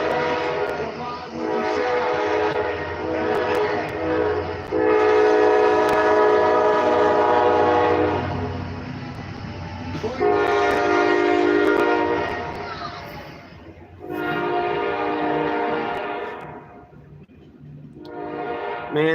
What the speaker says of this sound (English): here's a train. Good God. It's going to be loud.